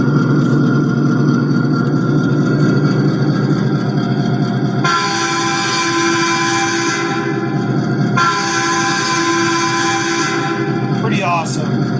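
Horn of a 1.6-inch scale, 7.5-inch gauge EMD GP-9 diesel locomotive in Great Northern livery, sounding two long, loud steady blasts over the idling diesel engine.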